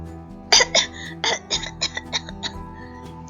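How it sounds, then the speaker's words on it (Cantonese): A storybook sound effect of someone coughing from a steam train's smoke: a quick series of six or seven sharp, hoarse coughs that come close and loud, then fade in strength toward the end. "蒸汽火車噴咗好多煙出嚟啊，搞到我係咁咳啊！"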